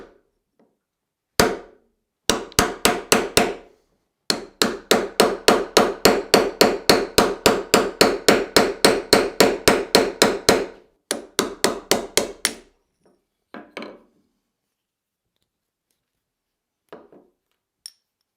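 A heavy punch is struck again and again with a hammer to drive the head off an old vintage hammer. The close, sharp metallic blows come in a long, steady run, with a few scattered hits before and after and no talk.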